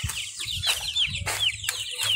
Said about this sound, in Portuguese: Aqui os outros pintinhos que ele comprou.